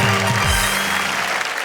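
Loud audience applause at a comedy stage show, dense continuous clapping from a large crowd, close and steady with a brief low musical tone fading at the start.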